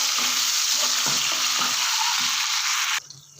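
Finely chopped tomato is stirred into fried ginger-garlic paste for a mixed vegetable sabzi, giving a loud, continuous sizzle with faint spoon scrapes that drops abruptly to a softer fry near the end.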